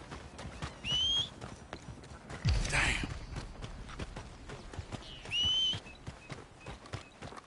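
Horse hooves clip-clopping in Red Dead Redemption 2, a steady walking rhythm close by, with two brief whinnies and a burst of louder movement in between; a voice speaks briefly over the game sounds.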